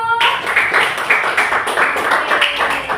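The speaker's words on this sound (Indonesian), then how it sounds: "Oke, berikan aplaus dulu." Students in a classroom clap together, a steady dense patter of many hands lasting the whole moment at close range, with no talking over it.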